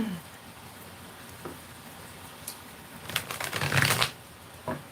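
Ethereal Visions card deck being shuffled, a faint tap early on and then a brief, crisp flurry of riffling cards, ending in a single short snap, close by and without talk.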